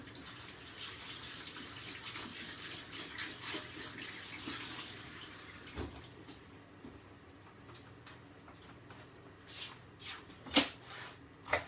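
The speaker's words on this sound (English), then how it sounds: "I'm just going to give it a quick wash." Tap water running over fresh basil leaves being washed in a kitchen, a steady broadband rush for the first half that tapers off, followed by scattered handling clatters and a few sharper knocks; no talking.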